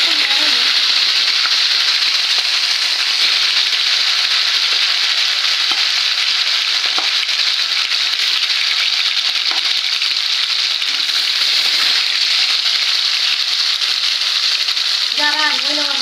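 Fish fries in hot oil with a loud, even sizzle and crackle that holds steady throughout, and a voice comes in briefly near the end.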